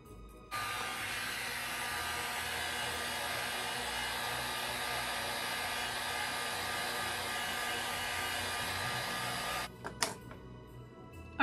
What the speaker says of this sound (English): when you heat gun a metal finial, don't touch it right away